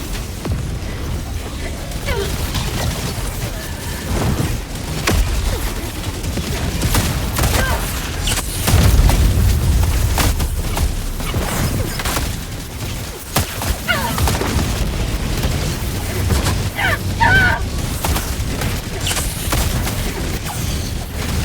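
Grenade explosions in the video game Helldivers 2 bring repeated heavy booms and crashing blasts over continuous gunfire, loud and dense for the whole stretch, with occasional voices underneath.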